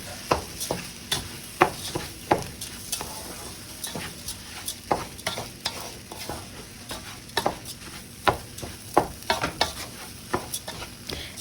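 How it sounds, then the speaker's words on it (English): A big pot of rice for arroz con gandules is stirred and sautéed, a spoon scraping and clattering irregularly against the pot over a continuous soft sizzle, with no talking. "And I want to saute the rice a little bit. So I'm just going to continue to stir, but not too much."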